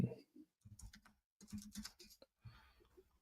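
Typing on a computer keyboard, with short bursts of clicky keystrokes separated by brief pauses, close and fairly quiet, no voices.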